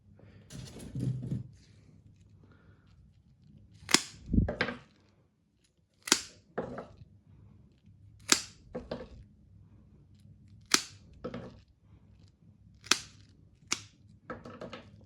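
Pruning shears snip hazelnut scion wood into two-bud lengths for winter grafting onto Turkish hazel, a series of about ten sharp, crisp cuts at irregular intervals, close and distinct against a quiet background.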